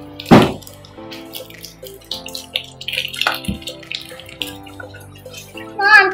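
Water poured into a kinetic slime mix at home, sloshing and dripping in uneven bursts with a loud splash near the start, while a child and an adult talk around it.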